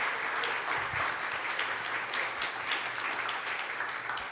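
A crowd claps and applauds steadily and fairly evenly for several seconds without pause, after a panel discussion.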